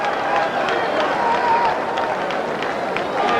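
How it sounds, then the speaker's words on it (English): A crowd roars and cheers steadily in a large arena, a dense wash of noise with scattered shouts throughout. "you can tell the crowd is enjoying this one"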